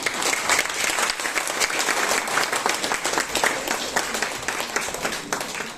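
Sustained audience applause at a birthday celebration, a dense, steady wash of many hands clapping at even loudness throughout with no voices on top.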